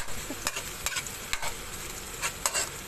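A spoon stirs tomato pasta in a pan over the heat, giving soft scraping strokes every half second or so over a low, steady sizzle.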